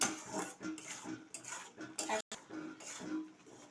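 A utensil stirs poppy seed halwa in a pan, making repeated scraping and clinking strokes in an uneven rhythm, fairly quiet and close, with a brief gap partway through.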